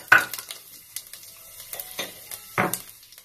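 Fennel seeds, mustard seeds and urad dal crackle in hot oil as tempering for coconut rice, with scattered sharp pops and sizzles and a couple of louder bursts, close and without voices.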